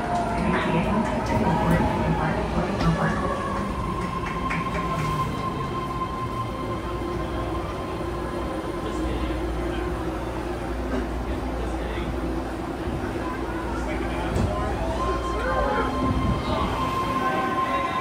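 A BART legacy fleet train rumbles and rolls through an underground subway station, a loud continuous roar of wheels and cars with occasional squeal, while station announcements sound over it.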